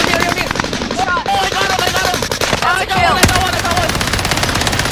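Gunfire in a video game, rapid automatic bursts that are loud and close, rattling in quick rhythmic strings with a sharp crack near the end, while players talk over it.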